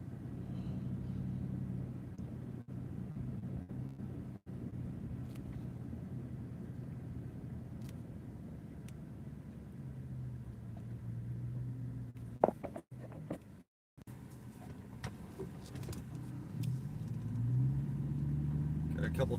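A car drives through a quiet residential neighborhood with a low, steady road rumble and occasional engine swells, all fairly faint, while a voice talks over it now and then.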